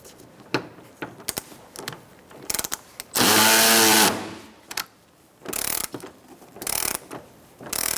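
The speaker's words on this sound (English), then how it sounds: "Use a 10mm socket and remove this bolt and also the one on the other side." Ratchet with a 10mm socket removing a bolt during radiator replacement on a 2014-2019 Kia Soul 1.6L L4, with sharp clicking bursts, a loud continuous whirring spin in the middle, then more ratcheting clicks close by.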